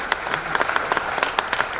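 Brisk applause from an audience at a Marwari community talent award ceremony, with distinct claps popping out of a steady, moderately loud patter.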